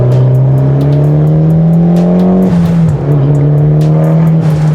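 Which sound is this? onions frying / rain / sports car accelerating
sports car accelerating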